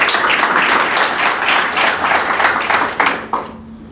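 A forum audience at a peace and sustainability gathering breaks into loud, rhythmic applause, clapping in a steady pulse before it thins out and stops near the end.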